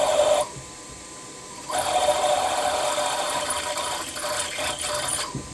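A milling machine cuts a countersink taper into a metal tooling plate, giving a steady, loud mechanical whir and grind that drops briefly, then resumes and continues near and alone.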